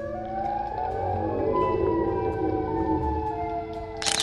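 A Siren Head creature's siren call drones as a loud, sustained, wavering wail with layered tones for several seconds, ending in a brief noisy burst.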